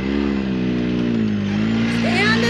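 Pro R off-road vehicle at Little Sahara Sand Dunes: engine held at a loud, steady high-revving drone that climbs slightly in pitch, close and continuous, with a voice briefly shouting over it.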